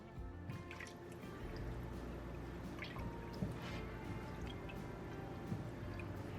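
Turkey stock, the rest of a quart, poured into a pot with smoked turkey, giving a soft steady liquid trickle and faint drips that carry through the whole stretch over a low kitchen background.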